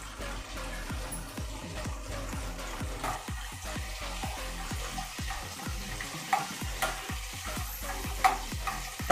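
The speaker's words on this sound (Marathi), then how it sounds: "आपण खडा मसाला चांगला फ्राय करून घेतोय तेलामध्ये." Whole spices frying in oil: cinnamon, cloves, black pepper and bay leaf for a rustic chicken rassa. A steady sizzle runs under rapid rhythmic stirring strokes, close and continuous, with no talking.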